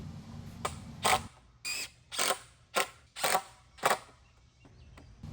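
A power driver sinks screws into a wooden arbor board, giving about six or seven short whirring bursts with brief pauses between them, close and clear over a quiet background.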